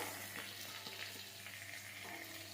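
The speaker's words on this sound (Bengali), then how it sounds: "এগুলো ভালোভাবে ভেজে নেব।" Chopped capsicum, cauliflower, beans, carrot, onion, ginger and green and red chillies sizzle softly in hot oil, a low, steady frying hiss with faint stirring clicks.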